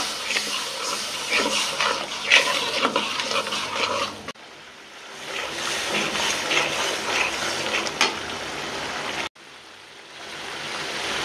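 Spice paste with turmeric and a splash of water frying and being stirred in a pan for a spinach and prawn curry, giving a steady close hiss and scraping that breaks off briefly twice.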